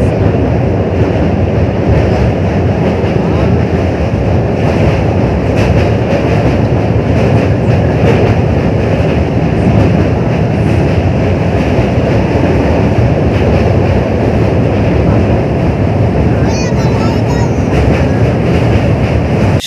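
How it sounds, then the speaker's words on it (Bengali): The Maa Tara Express rumbles steadily across the Jubilee Bridge over the Hooghly River, a loud, continuous roar with faint rhythmic clatter heard from inside the moving train, lasting unbroken throughout. "এখন জুবলি ব্রিজের ওপর দিয়ে আমাদের ট্রেন যাচ্ছে মাতারা এক্সপ্রেস"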